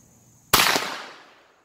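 Kel-Tec Sub 2000 carbine firing cast lead ammunition at a steel target outdoors, a single sharp close gunshot followed by a fading echo that trails off over about a second.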